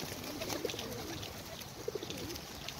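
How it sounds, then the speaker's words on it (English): Pigeons being fed by a pond give soft, faint coos in two short clusters over a quiet outdoor background. "Not for the pigeons."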